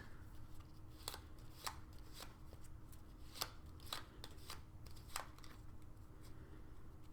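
A card shuffled into a deck during a playthrough of the board game Nevermind The Distraction gives a steady run of riffling and sharp clicking snaps over a constant background hum, with no talk.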